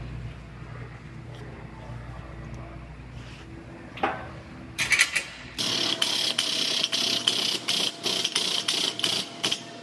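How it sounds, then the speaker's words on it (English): Bolts are worked out of a car frame during side-sway repair, giving a brief clank and then a fast, loud, evenly pulsing ratchet or power-tool burst with short regular gaps, alone and close. "I'm gonna take these bolts out"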